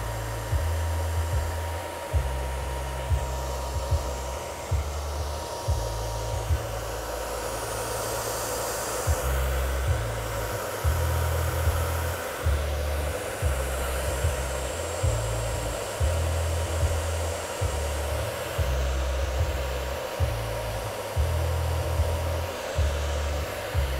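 Hair dryer fitted with a diffuser blowing steadily on extra short curly hair, a loud continuous airy roar with a low pulsing hum that rises and dips rhythmically as the diffuser is moved and lifted against the scalp.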